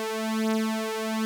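Jupiter synthesizer holds a single bright, buzzy atmospheric tone with rich steady harmonics for about a second before cutting off abruptly, clean and alone.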